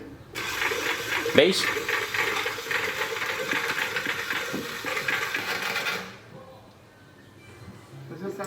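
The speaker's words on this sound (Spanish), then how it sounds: "al girar la llave, ya habéis visto que el motor de arranque empieza a mover" An engine with its spark plugs taken out and the intake manifold removed is cranked over by the starter motor, a steady whirring mechanical spin lasting several seconds before cutting off, with someone speaking briefly over it.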